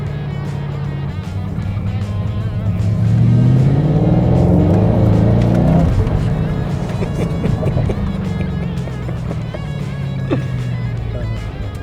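A deep, loud V8 growl from a Mustang GT500 swells as the car accelerates, peaks, then eases back to a steady rumble, close and powerful.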